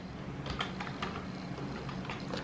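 Soft, steady typing on a computer keyboard as a command is entered, a quick irregular patter of keystrokes alone at low volume.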